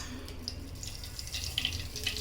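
Mustard seeds sputter in hot oil for a tamarind-free lemon rasam, with a steady low sizzle and a few sharp crackling pops close by.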